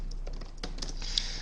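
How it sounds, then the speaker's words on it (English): Keys tapped on the full-size keyboard of an ASUS GL752VW gaming laptop, giving a short run of light, close clicks with uneven spacing against a low steady hum. "Big keyboard here, full size, a nice throw and a solid feedback."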